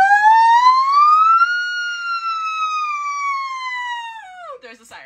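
A single voice imitates a police siren, holding one long wailing tone that climbs, lingers, then slides down and breaks off, loud and close.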